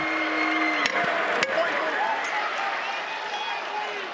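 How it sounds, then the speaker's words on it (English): A crowd in an arena at a Duke Blue Devils vs NC State Wolfpack men's college basketball game gives moderate, continuous applause and cheers beneath a commentator's voice. "He gets some cheers from the crowd nonetheless"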